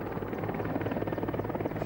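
A Soviet-designed Mi-24 Hind military helicopter with a continuous, fairly faint rotor thrum and a steady rapid beat, heard alone.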